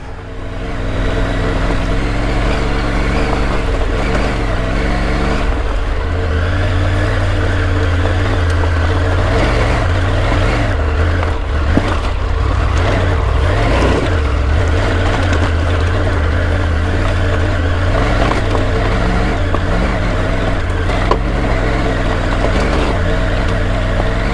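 A Triumph Tiger 900 adventure motorcycle climbs uphill in a rut on a trail, its engine droning steadily and loudly throughout with small variations in pitch and load.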